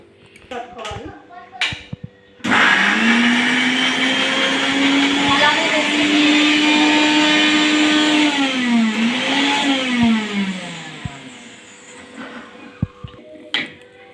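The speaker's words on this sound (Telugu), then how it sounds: "ఫస్ట్ కరివేపాకు అయితే మిక్సీ అయితే పట్టేసి పెట్టుకోవాలి" A kitchen mixer grinder grinds curry leaves. After a quiet start, the motor kicks in loud and steady with a rising whine for about eight seconds, then winds down and stops.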